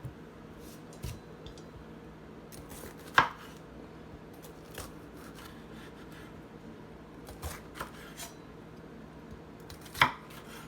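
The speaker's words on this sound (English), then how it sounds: "I want to cut up my onion, bell pepper, and celery." Onion, bell pepper and celery are chopped on a board for homemade gumbo, a few sparse, soft knife taps scattered over a quiet kitchen background.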